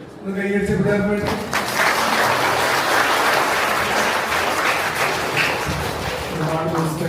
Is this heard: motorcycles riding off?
no